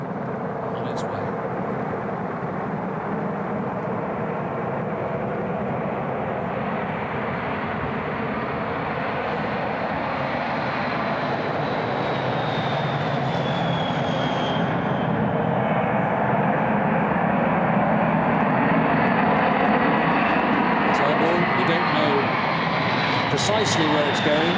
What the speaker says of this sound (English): There's the B-52 on the runway, taxiing is, I think, over.